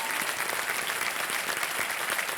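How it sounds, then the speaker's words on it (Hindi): A studio audience on the quiz show KBC applauds steadily, a dense, continuous clapping that holds at an even loudness throughout. "तालियां बज जाए अनुजा चौहान जी के लिए।"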